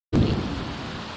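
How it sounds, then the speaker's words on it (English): A thunderstorm in The Sims video game bursts in suddenly with a loud, deep thunder rumble over steady rain, then the roar slowly eases. "Oh, it's a thunderstorm."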